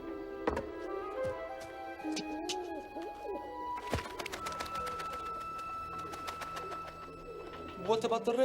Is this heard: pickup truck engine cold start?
no